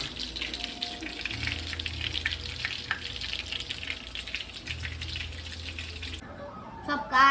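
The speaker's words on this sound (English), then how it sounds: "we just finished frying them" Pork chops frying in hot oil give a steady crackling sizzle with a low rumble beneath, continuous for several seconds before dropping away, followed by a brief clatter near the end.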